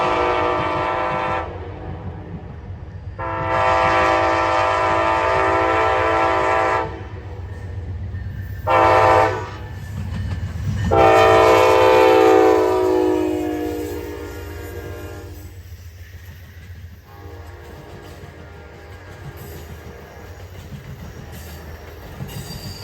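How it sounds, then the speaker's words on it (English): Amtrak 19 passenger train led by a Charger locomotive passes through Austell, Georgia, sounding loud repeated horn blasts over a steady rumble of rolling wheels and cars, the horn growing fainter toward the end. "Next through Austell was Amtrak 19 with a Charger leading."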